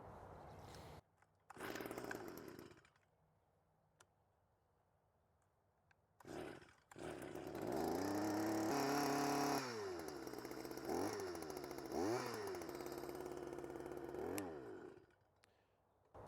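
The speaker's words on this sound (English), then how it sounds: "As you see, the Stihl starts very easy and runs perfectly." A Stihl two-cycle engine cold-started with choke set and primer pumped after a month unused: a few short pull-start bursts, then it catches and runs loud and steady, its pitch rising and falling with throttle blips.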